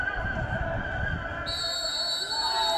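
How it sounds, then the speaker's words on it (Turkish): A referee's whistle blows for the kick-off of an under-17 elite league football match, a sustained shrill tone that rises partway through over the faint ambience of a stadium. "Evet düdük çaldı."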